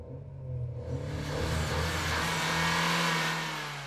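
An all-wheel-drive Mercedes CLA 250 Shooting Brake with 155 kW and a dual-clutch transmission accelerates hard. Its engine note swells from a low rumble into a loud, rising roar that holds steady, heard alone without speech.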